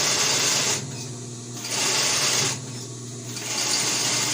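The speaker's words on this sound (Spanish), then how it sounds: "lo sujetamos y continuamos cosiendo" Sewing machine stitching elastic onto a cloth face mask, running in two long bursts of steady, rapid, loud mechanical chatter with brief quieter pauses between them.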